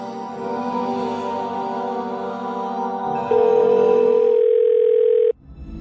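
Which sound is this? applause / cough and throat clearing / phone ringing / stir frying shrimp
phone ringing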